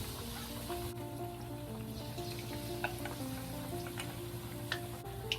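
A stuffed eggplant sandwich, coated in batter, frying in oil with a steady, even sizzle and scattered small pops, heard close up with no talking.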